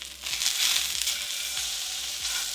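A real Kobe beef steak sizzles loudly in a hot pan just after being flipped, a dense, steady crackling hiss with occasional soft thumps underneath.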